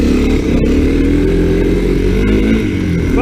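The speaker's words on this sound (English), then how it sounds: "these are our 1985 Honda 250 SX three-wheelers" A 1985 Honda 250 SX three-wheeler ATV with a four-stroke engine runs loud and close, its motor droning and revving steadily throughout, with no voices.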